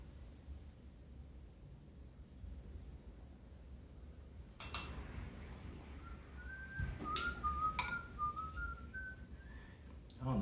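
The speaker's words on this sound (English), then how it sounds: "I don't know why I'm whistling" Someone in a kitchen whistles a Christmas tune, a short run of rising and falling notes in the second half, faint and near, with clinks of cutlery and dishes around it.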